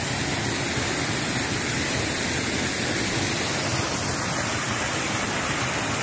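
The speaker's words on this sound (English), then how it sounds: "Beautiful waterfall already." A waterfall rushes near Winding Stair Gap on the Appalachian Trail, a dense, steady roar of falling water filling the whole scene without pause, with no voices.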